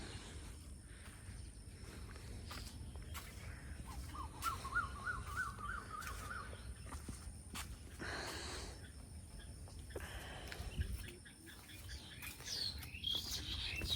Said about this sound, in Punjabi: ਚਿੜੀਆਂ ਦੀ ਆਵਾਜ਼